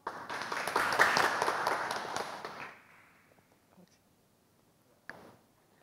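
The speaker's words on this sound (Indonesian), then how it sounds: "Mari kita beri tepuk tangan yang meriah" An audience at a course session claps in loud, dense applause for a speaker, which fades out after about three seconds, followed by faint room noise and a brief knock.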